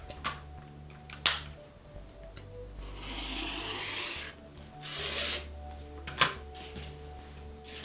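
Folded two-layer fabric for quilting is cut into a strip: a couple of sharp ticks, then two long soft rasping strokes of the cutter across the cloth, with a few clicks between them.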